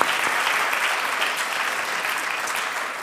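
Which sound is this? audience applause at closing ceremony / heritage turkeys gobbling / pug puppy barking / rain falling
audience applause at closing ceremony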